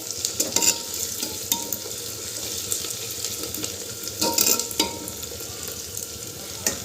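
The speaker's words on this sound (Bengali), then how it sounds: "আর একটু ভেজে নেব আমি পেঁয়াজটাকে" Onions frying in a pan for handi mutton, a steady close sizzle running throughout with a few brief louder spatters and stirring bursts; no one speaks.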